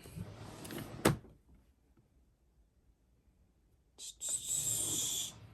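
A cluttered drawer of makeup palettes is opened with a single sharp knock, then a quiet pause, then a steady, close rustling and clattering as items are rummaged through.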